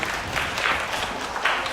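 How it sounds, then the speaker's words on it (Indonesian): Students in a classroom applaud together for a short stretch after a teacher's quiz, a steady wash of many hands with slight surges, mid-distance, with some voices mixed in. "tepuk tangan buat kalian semuanya."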